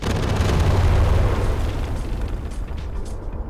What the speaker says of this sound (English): if you wanted to get rid of the big rocks, you do still need bombs